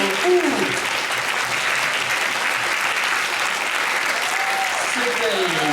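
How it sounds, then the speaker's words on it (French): Audience at a 2017 eloquence contest claps steadily throughout, a dense sustained applause from a hall full of people, with a few faint voices mixed in. "c'est pour ça qu'on va encore vous applaudir."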